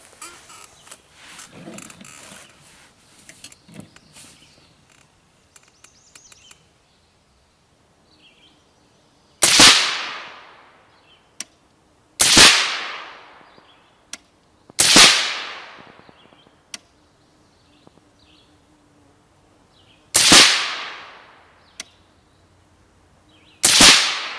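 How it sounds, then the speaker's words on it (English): Five suppressed rifle shots fired through a Gemtech TREK-T titanium silencer at a target range, each a sharp loud crack with a quick decaying tail, spaced a few seconds apart after some quiet handling noise. "Next, 5 rounds with the Gemtech TREK-T Titanium, and we'll make this the top right."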